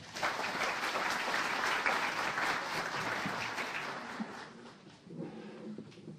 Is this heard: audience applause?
yes